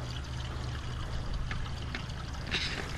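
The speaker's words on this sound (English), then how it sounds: "we're definitely getting water in all three pipes" Water flows and trickles steadily through the pipes of an NFT hydroponic system, a continuous close rushing with a few small splashy peaks and a low hum underneath.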